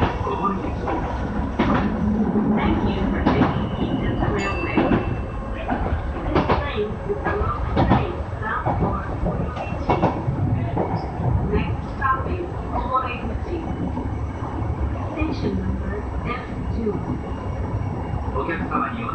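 A Kintetsu Minami Osaka Line 6020 series electric commuter train rumbles steadily along the tracks with rhythmic clatter and continuous low roar, heard from inside the carriage, with faint voices in the background.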